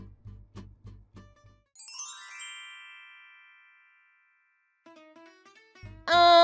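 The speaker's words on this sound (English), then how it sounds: "You can hear the doorbell," A doorbell sounds repeatedly: bursts of low thumps, then a bright ding-dong chime that rings out and decays, followed by more tinkling tones and another loud thumping burst at the end.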